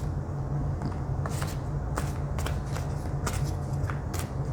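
A Spirit of the Animals Oracle card deck is shuffled by hand in several brisk riffling bursts over a steady low background hum, close and moderately loud.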